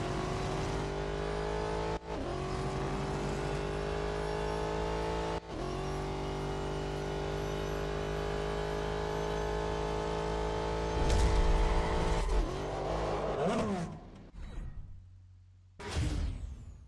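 Race car engines in Real Racing 3 scream at high revs in the mobile racing game, with sustained harmonic whines shifting pitch, short drops at gear changes, then a burst of louder revving and fading passes near the end.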